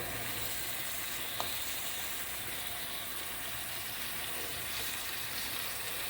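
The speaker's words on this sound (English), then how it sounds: "See the sear on that steak?" Steak and shrimp searing in a hot pan, giving a continuous, even hiss of fat that holds steady throughout with one brief tap near the start.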